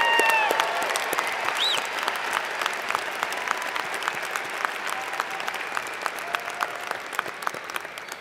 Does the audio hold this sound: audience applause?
yes